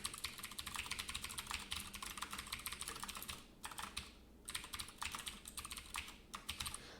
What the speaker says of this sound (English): Why can I not type my...